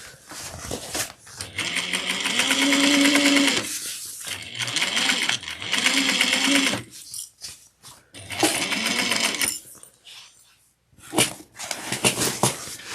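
A domestic sewing machine basting foam for a tote bag runs in several fast bursts, its rapid needle chatter starting and stopping with short pauses between runs and a few quieter gaps near the end.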